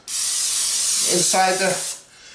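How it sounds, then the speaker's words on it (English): A steady spray of olive oil cooking spray into a bowl hisses continuously for about two seconds, close and loud, then cuts off abruptly. "So I got some of this Pam olive oil spray. I'm just going to spray this"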